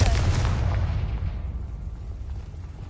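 A Confringo blasting spell explodes in Hogwarts Legacy, a loud, close, booming burst at the start that rolls off and fades into a low rumble.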